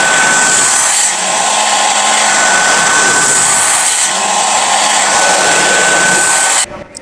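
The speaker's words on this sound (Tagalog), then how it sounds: "Blower," A blower runs loud and close, putting out a steady broadband rushing whoosh with a faint tonal whine that dips slightly about every three seconds and then cuts off abruptly at the end.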